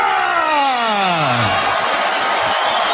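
A partisan crowd on its feet cheers loudly and steadily at the Hulu Theater in Madison Square Garden before a featherweight fight, a continuous dense roar with a falling tonal swoop at the start.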